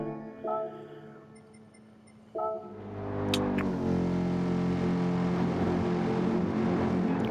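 Racing cars roll off the grid at Watkins Glen in a racing video game: a couple of short engine blips, then a swelling chorus of many revving engines that builds into a loud, sustained roar.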